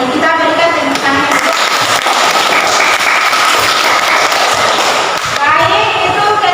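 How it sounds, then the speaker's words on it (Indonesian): A class of students claps together at the end of a school lesson, a dense, steady patter of hands lasting several seconds, with voices mixed in throughout. "Kita berikan tepuk tangan."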